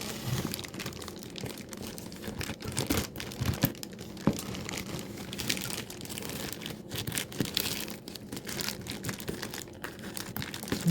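Crinkling and crunching of a detergent package being cut open with blunt scissors, a steady close rustle of plastic throughout with small snips and tears.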